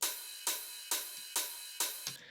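Five evenly spaced bright cymbal hits, an electronic open hi-hat layered with a ride, each shimmering briefly before the next, then a final softer hit.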